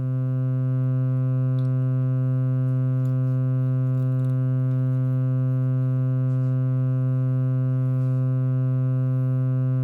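A Eurorack chord sent straight into a Magneto module with no effects, giving a steady, unchanging sustained tone with strong harmonics that holds for about ten seconds with nothing else heard.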